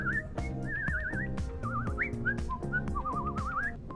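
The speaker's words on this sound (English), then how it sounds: "I can whistle so well that people often think I'm a Disney princess." Someone whistles a quick, warbling, trilled melody, close and clear, over a pulsing harmonic accompaniment.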